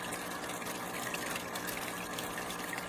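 Marineland Penguin Bio-Wheel aquarium power filter with a faulty, overly loud motor runs steadily, a continuous close watery hum and rush of pumped water with no pauses.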